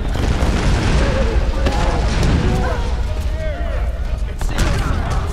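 Enemy gunfire and booming blasts aimed at Lara Croft in the Tomb Raider video game, a loud, dense barrage of shots and explosions running throughout with a voice talking over it.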